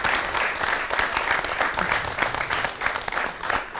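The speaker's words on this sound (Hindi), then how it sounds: "मैं चाहूँगी कि एक बार ज़ोरदार तालियां भी हों इस बच्ची के लिए" Loud, sustained applause from an audience for a young girl from a village near Bathinda, many hands clapping densely and steadily throughout with no voices standing out.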